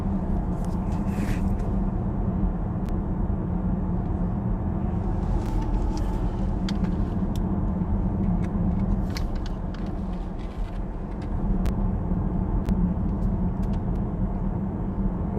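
Interior drone of an Audi Q6 e-tron Quattro electric SUV cruising up a valley road in Norway: steady low road and tyre rumble with faint electric whine and occasional light clicks, continuous and even throughout.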